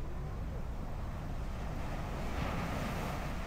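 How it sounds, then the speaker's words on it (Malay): Large ocean waves wash onto a beach in Terengganu, a broad, steady surf rumble heard from some distance, mixed with wind noise and rising slightly toward the end. "Bapak besar ombak ni"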